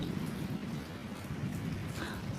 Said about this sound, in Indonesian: Sekarang situasinya masih hujan lebat.